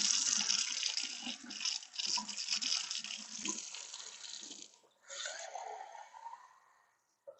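Hot water, 220 ml, pours steadily from a measuring jug into a container in a home kitchen, a continuous splashing gush that shifts tone as the vessel fills, then stops, followed by a short trickle.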